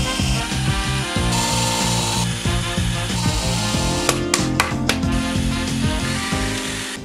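A drill bores holes in wood while a workbench-desk is being built, loud and close with a continuous grinding buzz. Several sharp clicks come through near the middle, under background music.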